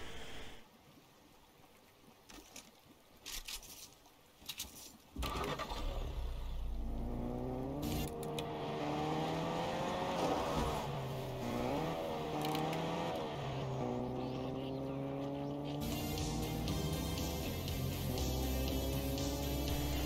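Video game car engine in Fortnite, a steady droning motor with shifting pitch that starts abruptly after a quieter first few seconds, then runs loud and continuous under game music.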